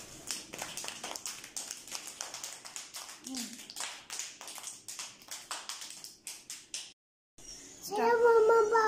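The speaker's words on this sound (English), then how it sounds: "Clapping for Achua." People clap for a small child in a steady, quick run of claps that lasts several seconds, then stops briefly before a voice comes in loud and close.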